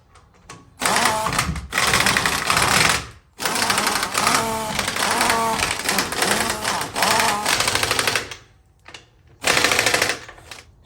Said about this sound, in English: Get my lug nuts started.